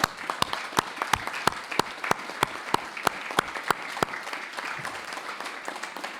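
Applause at a municipal council meeting, a small group clapping in a brisk, fairly regular patter that thins out toward the end, heard indoors at moderate volume.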